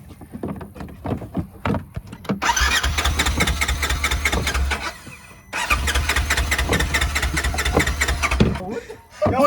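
A motorcycle engine is cranked and catches twice, idling loudly each time before cutting out, with people talking nearby in between.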